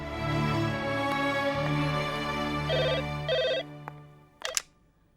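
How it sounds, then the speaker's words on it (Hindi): A telephone rings in a Hindi family drama scene, a steady electronic ringtone sounding over soft background music, followed by a few clicks and beeps as it cuts off; no one speaks. "करण का फोन है।"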